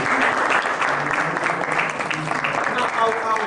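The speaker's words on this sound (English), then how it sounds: "Please clap for him." An audience at a plenary session applauds steadily, a dense continuous clapping that fills the room, with a voice speaking over it.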